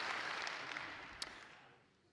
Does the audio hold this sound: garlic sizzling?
no